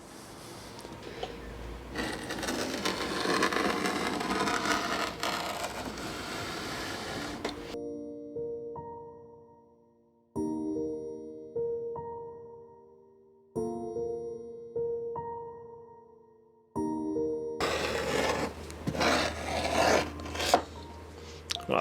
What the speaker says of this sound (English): I'm going to use a Stanley blade to cut away the excess cork between the lines